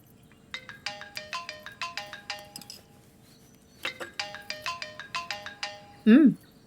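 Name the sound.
mobile phone ringtone for incoming call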